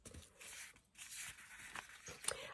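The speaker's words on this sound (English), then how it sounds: "I'll just give it a little bit of a tear right here." Recycled white tissue paper is torn in a few soft, close rips, each a brief papery swish separated by short pauses, faint and without speech.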